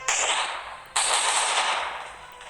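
A gun turret in a video game fires a loud, rapid automatic burst that cuts off briefly and then resumes, its continuous rattling volley fading slightly toward the end.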